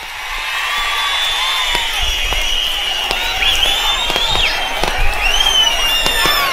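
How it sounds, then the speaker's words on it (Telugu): A rally crowd in Visakhapatnam claps loudly and continuously, a dense, steady wash of applause with scattered sharper bursts and some whistling or cheering throughout. "మేము సిద్ధమని గట్టిగా చప్పట్లు కొట్టండి మరొకసారి"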